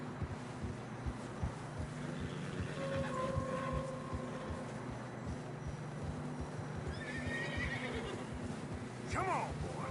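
Hooves clop steadily at close range over wind noise in snowy terrain in Red Dead Redemption 2, and near the end a horse gives a short, high whinny.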